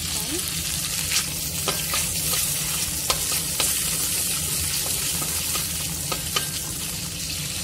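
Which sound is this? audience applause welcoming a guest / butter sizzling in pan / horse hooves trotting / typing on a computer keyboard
butter sizzling in pan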